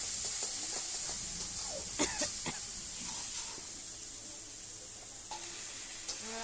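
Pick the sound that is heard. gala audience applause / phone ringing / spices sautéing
spices sautéing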